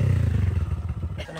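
An enduro motorcycle engine idles with a low, steady rumble nearby at an endurocross race, the throb fading slightly toward the end of the short stretch with no speech heard.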